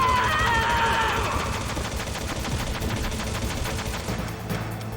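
Rapid automatic gunfire from the video game Metal Gear Solid on PlayStation. The bursts are loud and close and continue without pause for several seconds, with a faint trace of voice beneath them.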